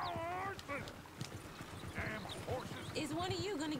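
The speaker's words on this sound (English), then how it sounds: "Is one of you gonna get that fella's horse?" Horses in Red Dead Redemption 2 clop along with brisk, close hoofbeats, a brief whinny rising amid overlapping voices talking.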